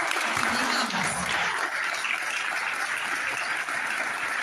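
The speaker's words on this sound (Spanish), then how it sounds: "Y con este aplauso te despedimos, te agradecemos y te animamos." An audience applauds a farewell tribute at a national gathering, with steady, dense clapping that holds loud and even for the whole stretch.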